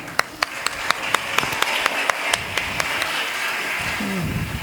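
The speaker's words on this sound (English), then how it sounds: "Give them a big round of applause." Sparse, rhythmic clapping at a school family talent show, a few distinct hand claps in a steady beat over a murmuring room, with a brief voice near the end.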